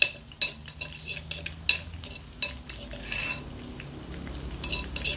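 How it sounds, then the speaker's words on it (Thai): Chili and garlic frying gently in oil over low heat, a faint sizzle under repeated clinks and scrapes of a utensil stirring against the pan. "น้ำมันเพิ่งเริ่มเดือด"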